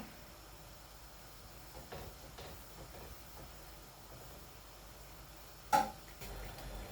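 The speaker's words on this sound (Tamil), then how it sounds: "இங்கே பிரேக்ஃபாஸ்ட்க்கு தோசை சுட்டுட்ருக்குறேன்" A quiet, steady sizzling hiss of dosa cooking on a hot griddle, with a brief clink near the end.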